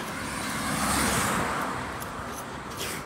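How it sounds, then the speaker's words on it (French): Steady roadway traffic from cars going by during a 5 km training run for the Disneyland Paris Run, a continuous broad rumble and hiss with a slight swell, fairly close, with no talk. "Alors qu'il y a toujours des voitures."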